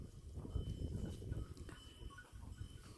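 A flock of sheep wearing bells moving about outdoors in mountain village country, with a steady low rustle and shuffling and faint bell tones ringing now and then in the background.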